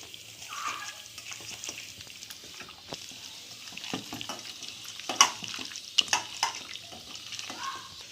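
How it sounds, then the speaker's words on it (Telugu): Raw chicken being stirred and mixed by hand with marinade spices for a chicken curry, a soft wet squelching and slapping with a few sharper clinks near the end. "చికెన్ అయితే కలిపేసుకుంటున్నానండి, ఇవన్నీ బాగా పట్టేటట్టు"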